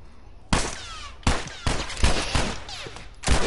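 Several loud gunshots go off in The Last of Us, five sharp broadband cracks spaced unevenly over a few seconds, each with a short echoing tail and a faint background hum between them.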